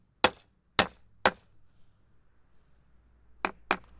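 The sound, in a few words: tapping a steering wheel part with a hammer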